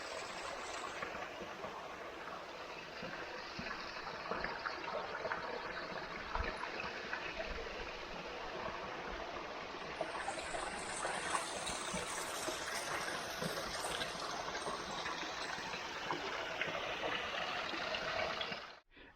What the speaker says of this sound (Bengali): ये হচ্ছে ঝর্ণা